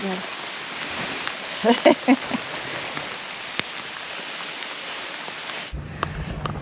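Rain falls steadily near Eltz Castle in the Moselle region, a dense even hiss that cuts off abruptly near the end, with a few brief voice sounds early on.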